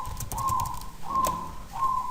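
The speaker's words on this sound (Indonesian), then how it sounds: "sambil mendengarkan alunan suara perkutut" A zebra dove (perkutut) coos in three repeated, clear whistled phrases, each a steady tone, heard fairly near with a faint indoor background and a few soft clicks.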